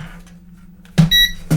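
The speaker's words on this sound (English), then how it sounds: "rotate it clockwise 3 times like this until you hear a beep" A 4DRC M1 drone gives a short electronic beep during compass calibration, a brief tone followed by a second quick chirp over a low steady hum.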